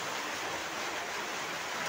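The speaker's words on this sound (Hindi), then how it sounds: "देखिए कितना बारिश आ रहा है" Dense, steady hiss of heavy rain pouring down, a continuous wash of noise without breaks or voices.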